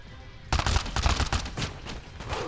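Rapid bursts of automatic gunfire from Call of Duty Black Ops Declassified, a dense string of loud close shots starting abruptly and rattling on for about a second, then thinning into scattered fainter reports.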